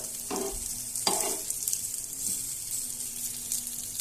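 Lentil cakes (dhoka) frying in oil in a pan, an even close sizzle with a couple of sharp clinks early on and soft stirring throughout.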